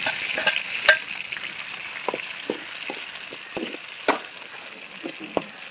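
Onion and tomato frying in a pan of oil after mustard seeds for a village-style fish curry, a steady quiet sizzle broken by sharp scattered pops and occasional spatula taps.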